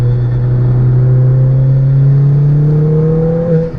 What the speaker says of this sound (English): third gear pull, get it round the corner